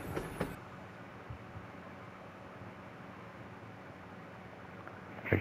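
A train rolls along steadily in the LEGO Harry Potter video game, a continuous low rumble of wheels on track with a couple of brief knocks near the start and end, heard alone without talk.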